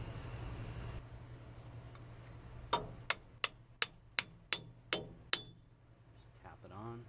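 A wheel bearing retainer is tapped into place with about eight sharp, evenly spaced metallic hammer taps, close and distinct, after a low background hum.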